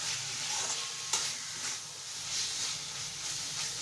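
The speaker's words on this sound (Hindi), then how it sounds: "तो हम इसमें आलू ऐड कर लेंगे और इसे हम 1 से 2 मिनट के लिए भून लेंगे।" Potatoes fry with spices in oil, a close, steady sizzle broken by scraping stirs and one sharp knock against the pan.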